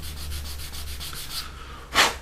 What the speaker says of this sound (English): keep your sanding stick flat, bring this on flat, and then just rub up and down